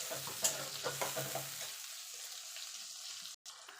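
A ground paste of tomato, green chilli and ginger fries in hot oil in a pan, a steady sizzle with a few stirring scrapes early on, then a quieter hiss, close by and with no talking.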